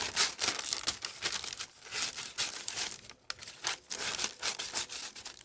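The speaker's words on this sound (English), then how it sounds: "So I am going to cut a piece of this out with my scissors." Repeated crisp crinkling and snipping of paper cut with scissors for a collage, close up, in uneven bursts with brief pauses between cuts.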